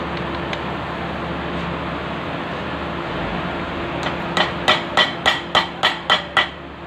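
Series of about eight evenly spaced sharp taps, a plastic pipe driving a commutator onto a DC motor armature during rewinding, starting after a stretch of steady workshop hum and ringing briefly after each strike.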